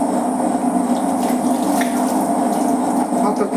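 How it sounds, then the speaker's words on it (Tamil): Water runs steadily from a tap with a constant splashing hiss, as if washing dishes in a sink, continuing without pause. "பாத்திரத்தை கழுவிடலாம்"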